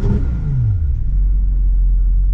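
Porsche GT3 RS engine with its exhaust valves open, a loud deep rumble with a falling rev tone settling into a steady low drone, close by with no voices.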